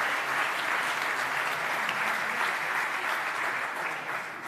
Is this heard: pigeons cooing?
no